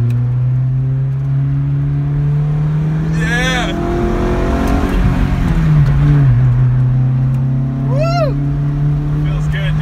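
A Honda CB7 with an H23 intake manifold revs hard while accelerating, its loud engine drone climbing and shifting steadily throughout, with brief whoops and voices over the top.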